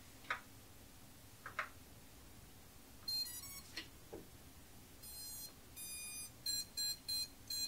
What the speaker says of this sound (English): Now it's beeping because my receiver's not on.